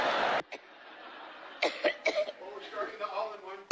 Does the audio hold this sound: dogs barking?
no